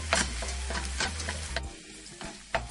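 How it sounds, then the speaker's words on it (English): Beef mince frying in a pan while a wooden spoon breaks it up, a constant hiss of sizzling with repeated rhythmic scraping strokes, close and fairly loud. "just breaking it up with a wooden spoon and give everything a good mix"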